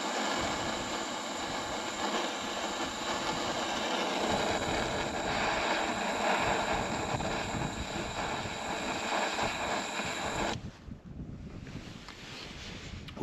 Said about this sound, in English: look at the wind.